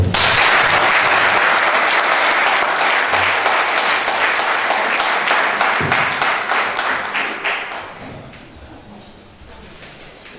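A congregation applauds to acclaim the Lord, loud, dense clapping that begins at full strength, carries on for several seconds, then thins and fades toward the end.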